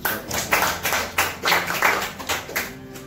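Applause from an audience at a birthday event, a burst of many hands clapping, close and loud, continuing with uneven rhythm for about three seconds.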